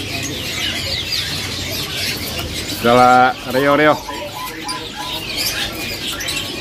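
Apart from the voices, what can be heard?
birds for sale chirping and cooing at a bird market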